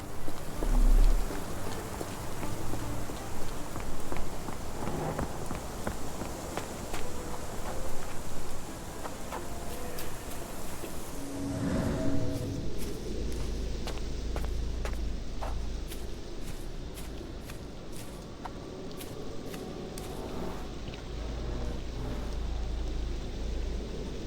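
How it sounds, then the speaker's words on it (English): Steady video-game rain in Sherlock Holmes: The Awakened patters on surfaces, a soft continuous hiss with scattered drips and a few faint thuds. "This dreary rain is making a miserable day even worse."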